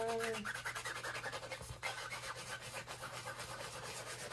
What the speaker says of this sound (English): I like to just use this little scrub pad because it just cleans my stamps. I'll just move it all around till they're finally dry.